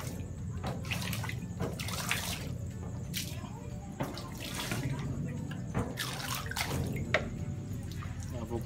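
Water continuously rinses a screen printing screen during manual screen printing, a steady broad splashing and running flow with brief louder surges, close and without pause.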